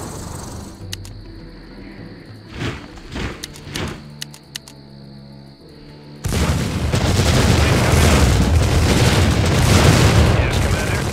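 Bombardier artillery explosions in the strategy game Empire Earth, set in a World War I campaign at the Somme: a few scattered booms and clicks at first, then a sustained loud roar of heavy bombardment.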